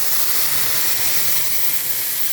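Spice paste dropped into hot oil and ghee with cumin and bay leaf, a loud, steady close-up sizzle and hiss that holds unbroken throughout with no voices.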